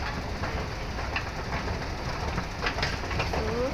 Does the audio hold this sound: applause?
no